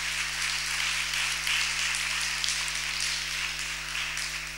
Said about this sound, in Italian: vi prego di fare un applauso